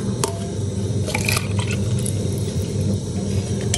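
Cups of water, meat-boiling stock, poured one after another into a pot of smoky party jollof rice, giving steady splashing and liquid gurgling close by with no talk.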